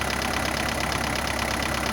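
Isuzu NPR diesel truck engine running after sitting eleven years, a loud close steady clatter with rapid rhythmic knocking pulses.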